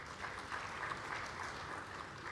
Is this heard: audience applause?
yes